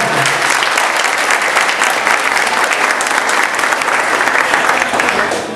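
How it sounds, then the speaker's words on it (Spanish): Loud, sustained applause from the audience at a graduation ceremony for a broadcasting school, dense clapping filling the room from start to finish. "nuestro profesor y amigo Francis Frías, para quien pido un caluroso aplauso."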